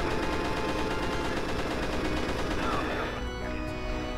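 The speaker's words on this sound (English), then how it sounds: "So we can shoot him instead of hearing all his dialogue." Rapid gunfire in the Pirate Doom video game, aimed at LeChuck: a dense, continuous burst of shots at close range that holds steady for about four seconds and then thins slightly.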